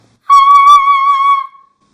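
A singer demonstrates the whistle vocal register with a single sustained, piercing high tone that holds for over a second, then tapers away, loud and close with no other sound.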